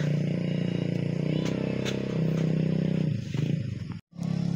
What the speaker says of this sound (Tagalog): Nahihirapang ilabas yung motor dahil umulan kagabi.